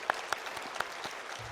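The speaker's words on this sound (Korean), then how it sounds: "하나님께 영광의 박수를 드리겠습니다." A church congregation at a Wednesday morning service claps briefly, a short, soft patter of hands with a few sharper claps at the front, fading quickly beneath a faint low murmur.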